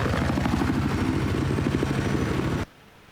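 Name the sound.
helicopter in Battlefield 4 video game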